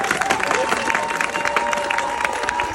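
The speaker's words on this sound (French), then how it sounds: "On applaudit." A crowd applauds at a ceremony launching the activities of a Gabonese patriotic movement, with dense, close clapping and some cheering, and a voice faintly under it.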